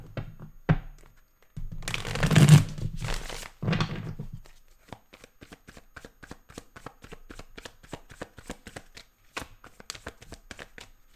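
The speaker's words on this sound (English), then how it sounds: "shuffle up your main spread" Tarot cards are shuffled up close: a couple of long riffling bursts, then a run of sharp separate card taps and snaps at a loose, uneven rhythm, with no talking.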